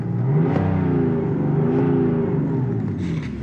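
A 2013 BMW X5 3.0D diesel engine, a high-mileage car, revs repeatedly, its note rising and falling in several swells over a steady close idle rumble.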